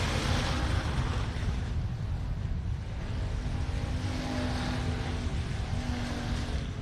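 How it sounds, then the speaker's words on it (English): A race car with a badly ailing engine rumbles continuously at a dirt track, a rough, dense roar holding steady throughout with no clear talk. "Torres trying to keep it rolling on the outside with an engine that is sounding very, very sick"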